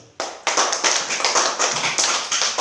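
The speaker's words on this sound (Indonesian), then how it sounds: "Mari kita tepuk tangan untuk Maria." Students in a classroom clap for a classmate after a closing prayer, a burst of hand claps starting abruptly and continuing in uneven, fairly loud rhythmic bursts with no talking.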